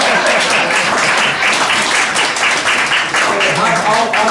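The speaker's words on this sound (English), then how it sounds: "Y'all better clap for this man." A live audience applauds a man in Selma with dense, steady clapping that fills the space at full volume from start to finish, with no pause.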